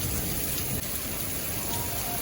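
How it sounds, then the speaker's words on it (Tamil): Heavy, sudden rain pours down over a small vegetable garden in France, a dense, steady hiss of drops that stays loud and unbroken throughout. "நல்ல மழை பெரிய பெரிய மழை அருமையாக இருக்குது"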